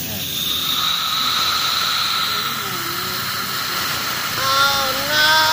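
A steady hiss of compressed air blown into a Yamaha Mio MX125 scooter engine intake and leaking out from lost compression, continuous and fairly close, with brief faint voices near the end.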